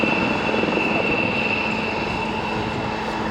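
Westland Lynx helicopters flying a display at an air show, their engines and rotors giving a loud, steady broadband roar with a sustained whine that holds throughout.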